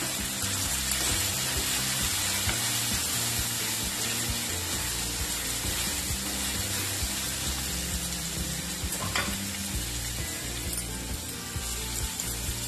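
Green peas frying in a little oil with tempering spices for a brinjal and pea curry, a steady dense sizzle and crackle running unbroken throughout without talk.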